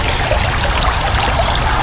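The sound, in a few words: water trickling from a six stack fountain into its basin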